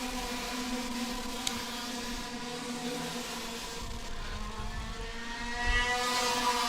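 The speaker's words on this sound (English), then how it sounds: "That engine is so loud, that exhaust, my goodness." A racing kart engine and exhaust at an IAME Nordic Cup event at KNA Varna, Norway, drone steadily at a distance, with the buzzing tone wavering and rising slightly toward the end.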